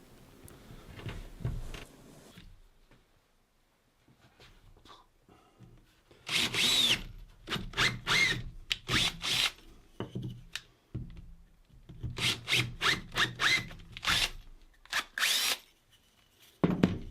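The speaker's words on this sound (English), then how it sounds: "I can counter drill to take not just the M8 bolts, but also the socket that I'll use to fit them." A power drill counter-bores holes sized for M8 bolts and their socket, in bursts of high whining spin separated by short pauses and quiet handling, the runs clustered into two busy groups.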